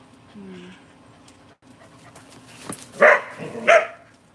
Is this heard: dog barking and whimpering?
yes